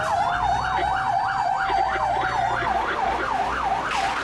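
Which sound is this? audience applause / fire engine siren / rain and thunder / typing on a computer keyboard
fire engine siren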